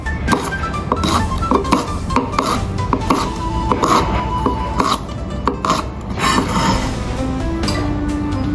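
Ginger is sliced on a cutting board for a vegan soup: steady, close knife chops and scraping taps in a quick irregular rhythm, with faint clinks of kitchenware and no speech.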